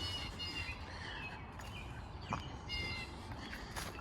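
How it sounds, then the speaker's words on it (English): Birds sing and chirp repeatedly against a steady outdoor background hum on a wooded canal trail around 8 o'clock, the calls moderately distant and overlapping. "You can listen to the birds right now."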